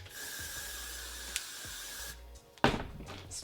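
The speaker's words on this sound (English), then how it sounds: "spraying it with hairspray" Hairspray sprayed onto a curled vintage poodle-style wig makes a steady, close aerosol hiss for about two seconds. It stops with a click, then a louder rustle follows.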